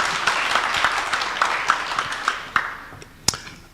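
A crowd claps and applauds loudly, a dense wash of hand claps that gradually thins out and fades, with a few last scattered claps.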